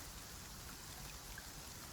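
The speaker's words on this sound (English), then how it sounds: "The drip. The rain." Steady rain patters on a greenhouse with dripping water, a constant soft hiss close by and on its own, with no talk.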